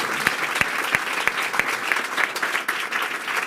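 Applause for Jesus Christ at a church gathering with a pastor in Gurdaspur, Punjab: steady, close clapping from a congregation with a few sharp individual claps standing out throughout.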